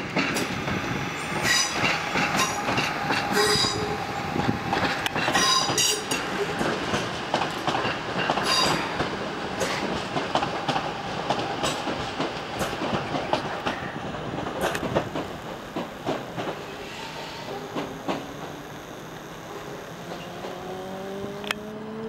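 A passenger train bound for London Euston passes through Crewe station, with loud rhythmic clickety-clack of wheels over rail joints and rolling rumble for over twenty seconds, ending with squealing wheels as it fades.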